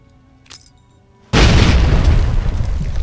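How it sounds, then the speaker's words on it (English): After a brief quiet moment with a small blip, a loud grenade explosion in the video game Fallout 3 bursts suddenly, leaving a heavy rumbling roar that lasts to the end. "let's just start liberally sowing grenades through this"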